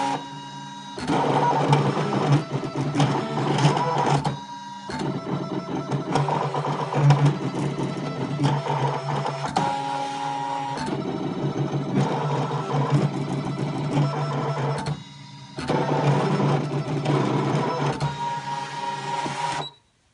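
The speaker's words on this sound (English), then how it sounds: "I've got my pen tool loaded up and I'm going to ask the machine" A Brother ScanNCut machine drawing shapes with its pen tool gives a steady motorised whir with rhythmic stepping buzz, carrying on near and alone across the stretch with a brief pause and a stop at the end.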